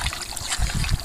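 Water is poured into a simmering pot of home-style mutton curry, a short, close splashing trickle with a few heavier gulps as it hits the pan.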